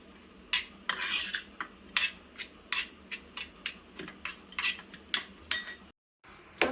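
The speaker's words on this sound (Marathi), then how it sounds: "आता हे स्टफिंग हलवून घेते." A spoon stirring paneer momo stuffing with Schezwan chutney in a bowl: a steady series of close metallic scrapes and clinks against the bowl, about two per second, with no talking.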